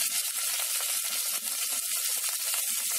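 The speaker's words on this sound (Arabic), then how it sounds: "نحمر كده الشعرية" Vermicelli fries in a spoonful of butter in a small pot, giving a continuous, close sizzle with small crackling pops scattered across it, alone and steady throughout.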